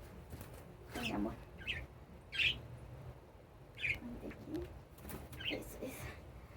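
Birds in a home aviary give scattered squawks and soft coos, several short calls spaced a second or so apart, fairly near and quiet, with people speaking at a low level in between.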